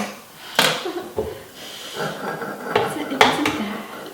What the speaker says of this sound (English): I'm just going to cut them up in a little bit chunks.